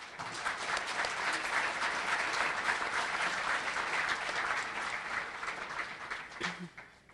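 Warm applause from a chamber of commerce audience greeting new members, steady clapping from many hands that fills the room and fades near the end.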